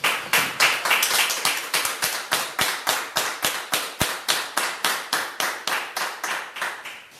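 A church congregation claps in unison to honour God at a live service, a loud, even rhythmic beat of about three claps per second that keeps going steadily and then begins to fade at the end.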